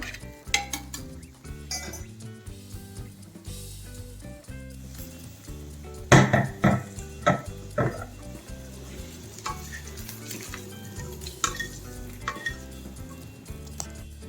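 Tempering being stirred into a brinjal and curd chutney, with sizzling, scraping spoon strokes and clinks of a metal pot, sharp clatters bunching in the middle over a steady low cooking hum.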